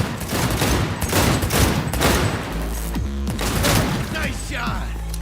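Cyberpunk 2077 gunfire: rapid bursts of loud, close shots in quick succession, punctuated by a heavy thump, with a voice briefly heard among the shooting.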